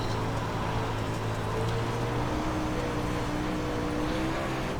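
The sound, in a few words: dirt super late model race car engine in video game iRacing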